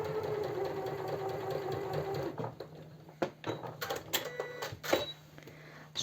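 A sewing machine stitching a blouse seam between two yokes, with a rapid mechanical whirring rattle for the first couple of seconds, then stopping into clicks, knocks and fabric handling nearby.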